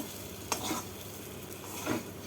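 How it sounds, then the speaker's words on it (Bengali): Potatoes stirred with spices in a cooking pan, a quiet low sizzle with two soft scraping strokes of a utensil across the pan, close and gentle. "এবার আলু দিয়ে মশলার সাথে ভালো করে মিশিয়ে নেব"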